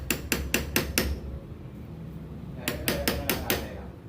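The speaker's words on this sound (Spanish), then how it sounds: "vamos a unos pequeños golpes para que termine de entrar" Light hammer taps seat a part in a leaking Shimano MT200 bicycle brake: a rapid run of five sharp, close metallic taps, a pause, then another quick burst of five.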